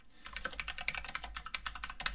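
Someone types code on a computer keyboard in a quick, steady run of close, crisp key clicks lasting about two seconds.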